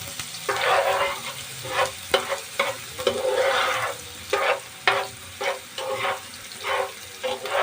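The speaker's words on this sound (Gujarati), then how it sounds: "હવે આપણે કાંદાને સડવા દઈશું" Chopped onions fry and sizzle in oil with cumin in a pan while being making Surati egg khimo, with a steady close sizzle broken by repeated stirring scrapes and bursts.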